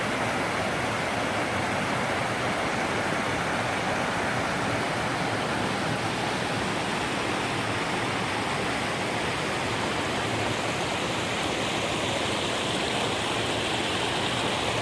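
A river stream rushes steadily over rocky bedrock near a camping retreat with a pool, a dense, continuous broadband wash that stays close and even throughout, with no voices.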